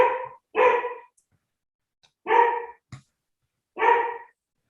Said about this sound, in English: whenever there's a car or delivery vehicle or something that comes by, he barks his head off